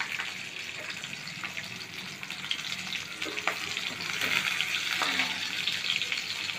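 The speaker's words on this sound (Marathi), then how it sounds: "त्यात लसूण आणि मिरची भाजून घेवाली" Garlic and green chilies fry in hot oil in a kadhai, giving a steady, close, broadband sizzle with a few faint clinks and scrapes, and no voices.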